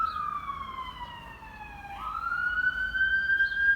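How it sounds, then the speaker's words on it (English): An ambulance siren wails from a main road during a quiet spring lockdown, its tone sliding down then jumping back up, distant and fairly faint over low background hush. "That's the sound of an ambulance from the main road"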